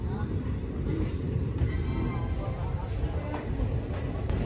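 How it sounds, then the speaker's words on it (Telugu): Salsar Express train standing at a station platform, a steady low rumble and hum filling the clip with faint background chatter from the platform. "ప్లాట్ఫామ్ నెంబర్ 1 మన ట్రైన్ వచ్చింది"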